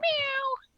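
A pet cat gives a single clear, drawn-out meow lasting just over half a second, close and alone.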